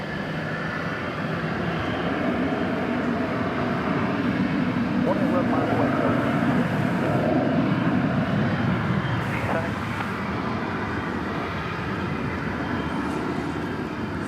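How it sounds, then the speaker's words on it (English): Qantas Boeing 787-9 Dreamliner at DFW Airport, a steady distant jet engine roar that swells gently and holds throughout, with occasional voice-like sounds faintly in the background. "But this is a 7879 going to Melbourne, Qantas flight"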